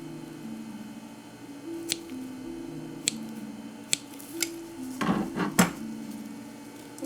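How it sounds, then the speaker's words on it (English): An animal's hip joint is cut during taxidermy skinning, giving a few sharp isolated snaps and clicks and then a wet, crunchy cluster of cracks near the end, close and fairly quiet over a soft background hum of music. "So that was the joint being cut."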